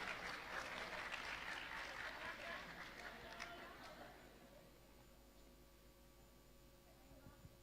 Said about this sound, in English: Please give a round of applause to all our new student leaders.